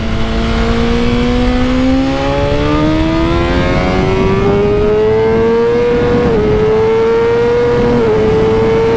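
Superbike engine on a racetrack revs hard and continuously, its pitch climbing steadily through the gears with brief dips at shifts, loud and close with wind and road roar beneath.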